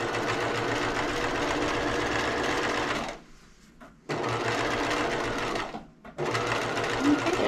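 Sewing machine stitching a row of gathering stitches on a doll dress, a fast steady mechanical whir that pauses twice briefly before resuming, close and clear.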